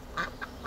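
White Peking ducks at a zoo giving a few short quacks, three quick nasal calls at moderate distance, fairly faint with no voices.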